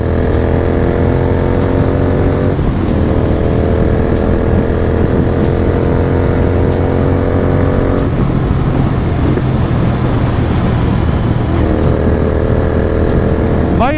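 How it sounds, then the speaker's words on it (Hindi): A GT 650 motorcycle exhaust drones steadily while riding through a valley, the engine note rising and falling as it shifts through gears, loud and close with wind noise over it. "एग्जॉस्ट से ना एक अलग ही मजा आ जाता है गाड़ी में।"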